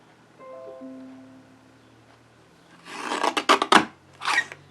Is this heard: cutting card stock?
yes